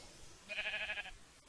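A sheep in Minecraft lets out one wavering bleat of about half a second, fairly faint against a quiet background.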